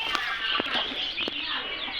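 A country hen with two chicks on a backyard poultry farm, soft clucks and short high peeps close by over a steady background bird chatter.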